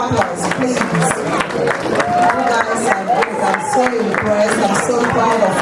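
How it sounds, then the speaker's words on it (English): A church hall audience gives steady, dense applause, loud and close, with a murmuring crowd and voices talking underneath the clapping. "can we give them a round of applause"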